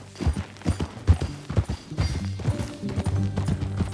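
Horse hooves clip-clop in an uneven, close trotting rhythm in the video game Red Dead Redemption 2, with hoof strikes layered over a low background tone.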